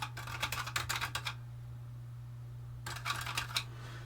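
Rapid clattering keystrokes on a Dragon 32 home computer keyboard, two bursts of close typing separated by a pause, over a steady electrical hum.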